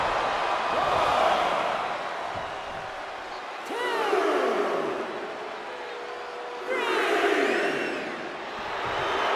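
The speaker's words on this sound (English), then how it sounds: "The sound of this crowd is deafening" A wrestling video game crowd (WWE 2K23) roars and cheers in swelling waves, with occasional sharp shouts and whistles rising above the steady din.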